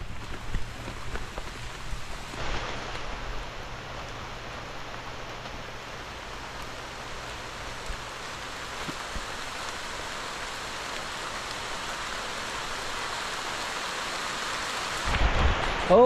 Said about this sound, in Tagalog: Todo po ang ulan oh.